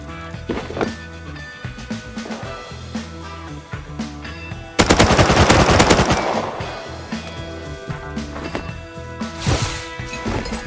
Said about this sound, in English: You can't go wrong with a double-barrel shotgun.